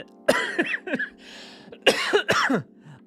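Several harsh coughs burst out close by in two clusters, separated by a short pause with faint hiss.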